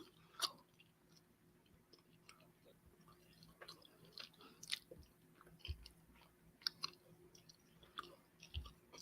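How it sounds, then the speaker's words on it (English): Soft, wet chewing of arrachera tacos right at the microphone, irregular bites and mouth clicks spread across a quiet room with no talking. "I don't know if y'all hear me chewing."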